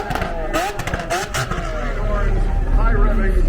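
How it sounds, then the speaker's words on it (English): A high-revving V12 engine at the SEMA Show 2021 roars loudly and steadily, its pitch climbing and falling as it accelerates nearby, with a faint voice briefly mixed in. "High revving V12 engines"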